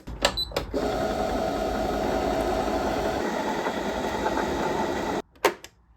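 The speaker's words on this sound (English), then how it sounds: "If you have a presser foot, you can push the presser foot down and that'll wind the bobbin" Embroidery machine winding a bobbin, a steady close mechanical whir running continuously for about five seconds between brief clicks at start and finish.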